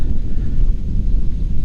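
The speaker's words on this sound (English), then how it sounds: "And it got really windy." Strong gusts buffet an outdoor microphone in a steady low rumble of wind noise, loud and close for under two seconds with no voices.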